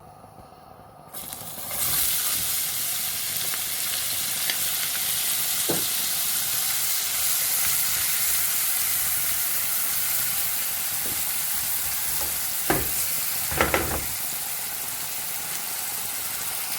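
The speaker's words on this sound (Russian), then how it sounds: "Обжарим на большом огне быстро-быстро, минутку нам надо обжарить лучок хорошенько." Steady loud sizzling of onion frying over high heat in a hot pan, starting abruptly and continuing throughout, with a few brief clatters near the end.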